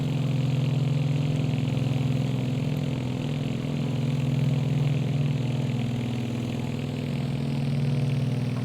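Twin radial piston engines of a Beechcraft D18S running below full throttle in the MSFS 2020 flight simulator, a steady loud droning hum from the cockpit with no pauses.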